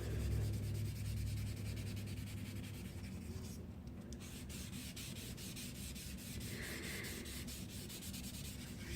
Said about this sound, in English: Clean cotton ball. And rub your chalk in.